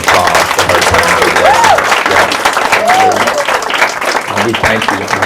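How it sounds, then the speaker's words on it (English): Audience applause fills the room at a talk with a law firm founder, loud and steady for several seconds as clapping blends into a dense wash, with faint voices mixed in. "please give Attorney Bond a loud round of applause for her time"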